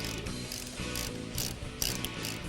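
Ratchet clicking while a car battery's negative terminal is disconnected on a 1996-2004 Mustang during throttle body and intake plenum work; rapid close mechanical clicks run steadily throughout, with a couple of louder snaps near the end.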